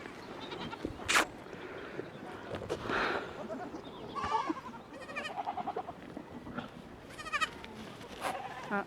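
Two goats on a farm bleat in scattered, fairly faint calls over rustling outdoor background noise, with several short wavering cries spaced across the stretch.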